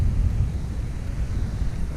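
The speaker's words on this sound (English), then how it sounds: "It's kinda windy out as usual." Wind gusting across an outdoor bass-fishing spot in fall, a steady low roar and buffeting against the microphone that rises and falls without pause, with no talking.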